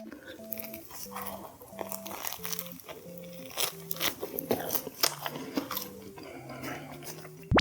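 Someone bites into and chews a salt bread roll with a crisp, croissant-like base and a soft, moist inside, giving repeated close crunches and crinkly chewing over quiet background music.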